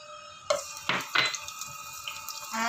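Garlic goes into hot cooking oil in a pan for a stir-fried luffa and shrimp dish, with a few sharp clinks of a utensil against the pan followed by a soft, steady sizzle, no voices.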